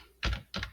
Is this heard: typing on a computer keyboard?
yes